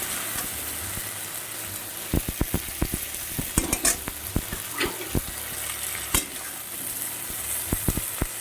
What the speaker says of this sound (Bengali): দেখুন চিংড়ি মাছগুলো ভাজা হয়ে গেছে 2 মিনিটের মধ্যে